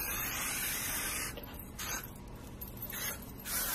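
A close can of hairspray hisses steadily, pauses briefly, then sprays again in a few short bursts.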